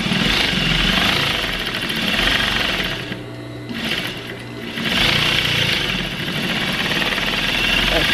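A sewing machine stitches elastic onto a homemade mop cover with a loud, steady motor whir. It slows and quiets briefly in the middle, then runs at full speed again.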